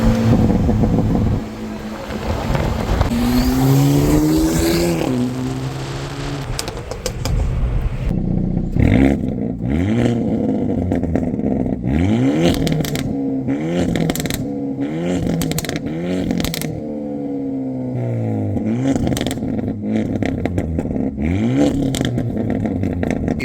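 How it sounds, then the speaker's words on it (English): Hyundai Elantra N with its exhaust resonator deleted, revving repeatedly: a loud, close engine note that climbs and falls in a string of sharp blips, with a rough rasp between throttle stabs and no talking. "resonator delete. It's under the car. Obviously you can't see it, but this is what it sounds like."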